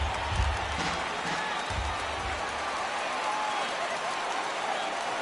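A stadium crowd of around 22,000 at a Rays versus Royals baseball game in MLB The Show 18 rising to their feet, a steady, dense roar of cheering and applause with faint commentary underneath.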